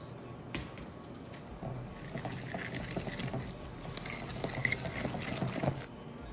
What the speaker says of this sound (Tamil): முட்டையை போட்டு நல்லா கலக்குறீங்க